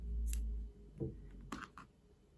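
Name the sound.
scissors cutting yarn while crocheting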